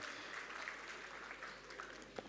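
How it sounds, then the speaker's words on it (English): Applause from the audience at the closing ceremony of a water and sanitation association congress, a steady hall-filling patter of clapping held at an even level throughout. "a big round of applause"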